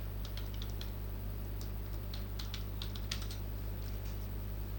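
Typing a word on a computer keyboard, heard as a quick run of light, irregular key clicks over a steady low electrical hum, with no talking.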